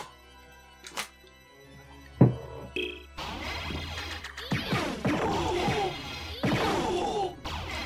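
A landline telephone rings at home in the evening, a few bright repeated bell tones rising over a thump and steady background game music, fairly close and loud.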